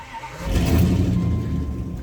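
A Dodge Dakota pickup fitted with air suspension starts up in gear: a short crank, then the engine catches into a steady low rumbling idle, close and moderately loud.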